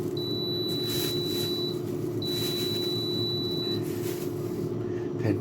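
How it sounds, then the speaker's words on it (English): A kitchen alarm gives two long, steady high beeps separated by a short gap, sounding over a constant low hum in a quiet kitchen. "Hence the 5 beeps."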